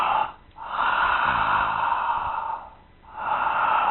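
Ujjayi breathing done with the mouth open: a slow, loud, hissing throat-constricted inhale and exhale, a near breath cycle repeating twice with short pauses between.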